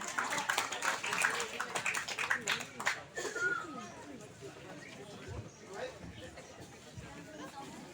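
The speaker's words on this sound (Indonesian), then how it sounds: "tepuk tangan yang meriah untuk Adik Farhan" An audience applauds at a school speech performance, a dense burst of clapping that fades after a few seconds into murmuring and a voice speaking.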